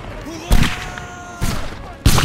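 Musket volleys crackle in an online multiplayer skirmish, three loud ragged bursts of massed gunfire arriving about a second apart, each a rolling spread of overlapping shots.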